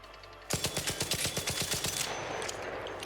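Automatic gunfire in ARC Raiders rattles off in a rapid burst of about a dozen evenly spaced shots, loud and close, then trails into a fading echo.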